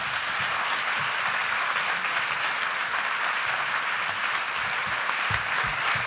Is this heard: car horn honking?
no